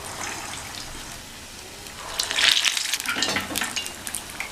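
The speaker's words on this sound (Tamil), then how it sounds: "நனைச்சிட்டு இப்படி எடுத்து உருட்டிட்டு எண்ணெயில் சேர்த்துடலாம்." Vada dough balls dropped into hot oil and frying, giving a steady soft sizzle that swells into brighter crackling bubbling as the dough hits the oil, close and moderately quiet, without speech.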